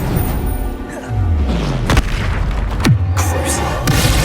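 A Bombarda spell explodes in Hogwarts Legacy with loud, deep booms and sharp cracking impacts, several in quick succession over rumbling game effects, while a voice talks over the action.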